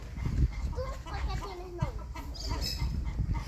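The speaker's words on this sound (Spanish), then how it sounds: "Gallos, por donde quiera." Roosters and other fowl on a farm with parrots nearby, crowing and clucking in short bursts amid a busy mix of animal sounds while someone talks over them.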